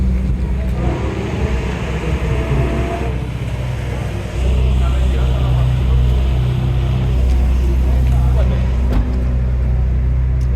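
A 720 hp Ferrari Tributo sports car drives on a race track, its engine a loud, continuous low drone heard close up from on board, with no pauses across the run.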